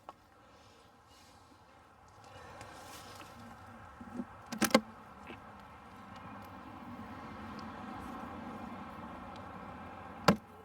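Honeybees hum steadily in an opened hive early in the beekeeping season, a low continuous drone close by, with a couple of sharp knocks or clicks over it and no talking.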